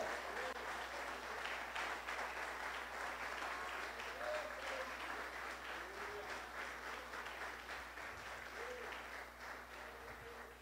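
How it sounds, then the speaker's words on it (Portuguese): Applause from a church congregation at a service honoring the Holy Spirit, a steady wash of many hands clapping that holds for the whole stretch and eases off slightly toward the end, with faint voices mixed in. "Vamos aplaudir mais uma vez o Espírito Santo"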